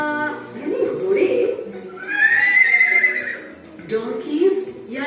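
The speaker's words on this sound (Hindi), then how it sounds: "यानी घोड़े" A horse neighs and whinnies in a few rising, wavering calls spread over several seconds, close and prominent, with short gaps between the cries.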